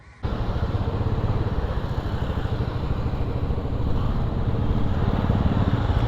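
Motorcycle engine with a loud aftermarket exhaust silencer running close by, a dense, rapid, throbbing rumble that starts abruptly and holds steady.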